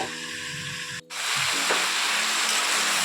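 Drumstick curry cooking with mustard-poppy seed paste and turmeric is stirred in a pan: a brief hush, then a louder, steady sizzle and scraping as the mixture is moved around.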